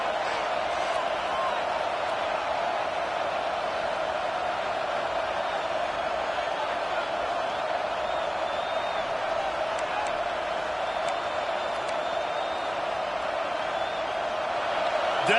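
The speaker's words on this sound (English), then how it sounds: "Decibels rising as the crowd gets behind this defense on third down" A large football stadium crowd holds a steady, broad roar for the defense on third down, loud and unbroken throughout, with a commentator talking over it.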